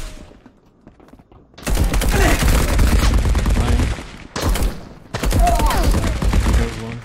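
Gunfire in the multiplayer shooter Marauders, dense bursts of rapid shots in two long loud stretches broken by short pauses, with a quieter lead-in.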